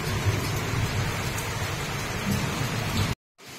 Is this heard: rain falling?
yes